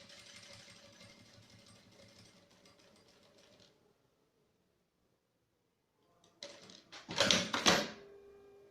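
Sewing machine stitching the seam of a fabric phone wallet: a rapid mechanical chatter for several seconds, a pause of near silence, then a louder burst of fast stitching with clattering peaks.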